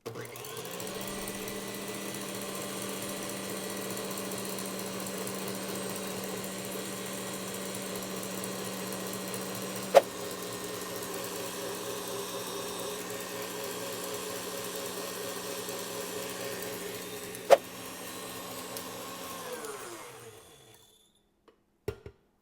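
Electric mixer running steadily on high speed, beating egg whites with sugar and vanilla into stiff glossy peaks for angel food cake; a constant motor whine with two brief clicks, winding down near the end.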